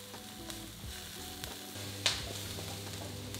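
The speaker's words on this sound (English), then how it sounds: "Add 2 minced cloves of garlic to the pan and cook for a further minute while stirring." Minced garlic frying in a pan with salmon, stirred as it cooks: a steady, close sizzle with light scraping and a small clack partway through.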